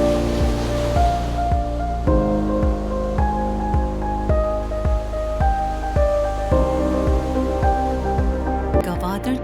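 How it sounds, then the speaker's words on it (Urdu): Sea waves break on the shore along the marine drive in Gwadar, Pakistan, a steady low wash of surf that sits beneath loud, evenly paced plucked-string music. "پانی کی ساحل سے ٹکراتی لہریں"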